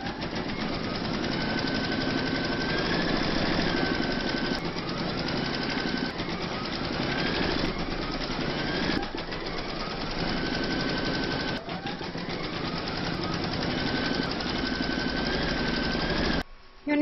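An embroidery machine stitching a hooped Celtic quilt topper with fabric and batting, a continuous rapid mechanical rattle and whir holding steady and close for the whole stretch, with occasional brief shifts in pitch as the needle moves.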